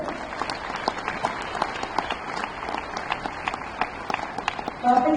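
A crowd applauds transport officials at a Delhi bus service launch, with scattered rapid clapping throughout and a louder burst near the end, while a voice talks over it.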